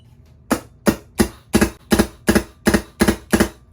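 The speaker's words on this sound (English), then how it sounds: "then the gun will fire. And it would sound something like this." Empire Axe Pro electronic paintball gun firing nine sharp, evenly spaced shots at a steady rapid rhythm, close and loud with nothing else heard.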